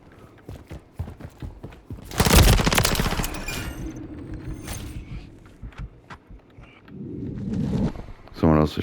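Gunfire in the video game Call of Duty Modern Warfare 3: a loud, dense burst of shots lasting about a second, followed by scattered sharper cracks, with voices talking over the game.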